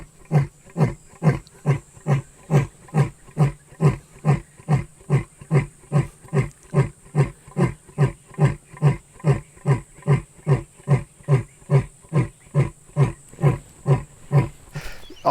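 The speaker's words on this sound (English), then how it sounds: "if a lion roars when people are on a game drive" A lion in the wild gives a long series of deep, grunting roars, evenly spaced pulses repeating steadily for about fifteen seconds, close and loud with no talk.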